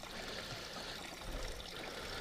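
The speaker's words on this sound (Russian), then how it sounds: "Сейчас сливаем воду." Water trickles and pours steadily out of a fishing boat on the Moksha river as it is drained, a faint continuous splashing flow with no voices.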